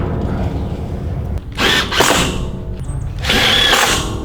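A power drill drives screws to fasten corrugated metal sheets onto a raised garden bed, heard as two strong bursts of whirring that follow a stretch of quieter rustling.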